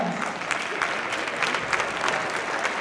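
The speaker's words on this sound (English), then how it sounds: "another huge round of applause" Crowd applause at a Sister Cities celebration event, continuous mid-level clapping from many hands with a few sharper claps standing out, no talk over it.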